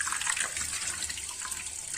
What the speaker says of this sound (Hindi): अब इसमें डालूंगी पानी, थोड़ा डूब जाएगा थोड़ी देर में